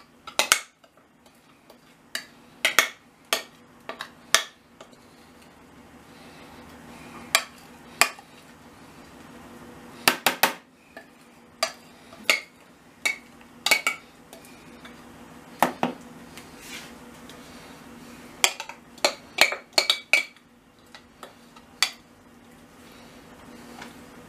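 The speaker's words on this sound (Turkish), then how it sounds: "Şöyle bir büyük kaşık yardımıyla tavaya, tepsiye eşit bir şekilde yayalım" A large spoon spreads cornbread batter evenly across a baking tray, giving scattered sharp metallic clinks and scrapes against the pan, close and fairly quiet, in irregular bursts with pauses between.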